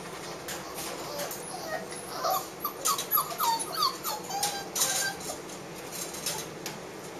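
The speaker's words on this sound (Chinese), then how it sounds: "有这么多可爱的小狗哦" Puppies in a healthy-quarantine area of a city animal shelter, a cluster of high, close whimpers and yelps in the middle stretch, with a person talking and faint clinks of metal bowls.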